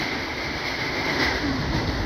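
Steady rumbling roar of a double-decker passenger train hauled by an EP2K locomotive passing close by, continuous broadband rush with a faint whine, no voices.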